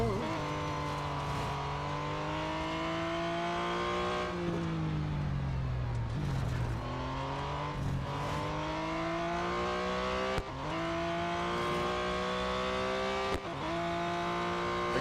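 Race car engines rev steadily in the racing game Real Racing 3, a loud continuous whine that sweeps up and down through gear changes, with a few sharp knocks.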